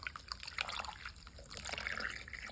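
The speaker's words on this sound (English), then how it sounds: "I'm going to pour that sauce back over our chicken." Barbecue sauce poured back over chicken in a crockpot, a steady wet trickling and splashing that runs for a few seconds at moderate closeness, with no talk over it.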